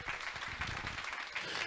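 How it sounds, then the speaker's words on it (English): Applause from a panel discussion audience for a woman on stage, a steady wash of clapping at moderate, somewhat distant level, sustained and even throughout. "Let's give her a round of applause."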